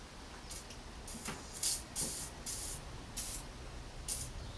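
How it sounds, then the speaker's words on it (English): WD-40 sprayed in short hissing bursts onto the nut of an anti-roll bar link bolt on a 2007 Mercedes A-Class front suspension, several quiet spurts over low background noise. "I'm just putting a little bit of WD-40 on the bolt of the nut of the anti-roll bar link"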